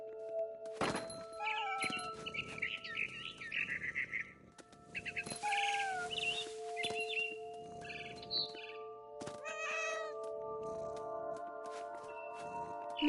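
A cat meows in the video game What Remains of Edith Finch, with several mewing calls among bird-like chirps and a steady tonal game ambience, a thud near the start.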